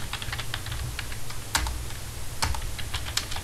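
Rapid keystrokes clatter on a computer keyboard, close and steady, with a few sharper louder key hits standing out, and no voices.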